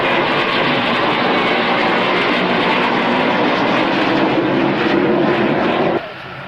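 An aircraft on departure day at RAF Mildenhall gives a loud, sustained engine roar that holds steady and then drops off sharply near the end.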